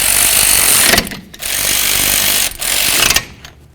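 Power tool, likely an impact gun, driving brake caliper bolts on a 2008–2012 Jeep Liberty: loud, close buzzing bursts in three runs with short gaps between them.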